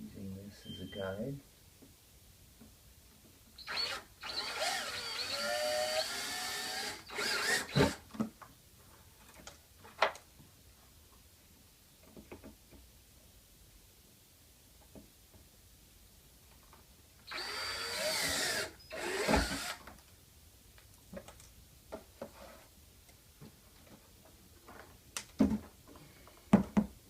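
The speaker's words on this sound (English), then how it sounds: "And then drill these two holes here, using this as a guide." Drill boring two holes through a Road Glide headlight bracket, used as a guide against the motorcycle frame. Two loud bursts of whirring drilling, separated by quieter handling clicks and taps.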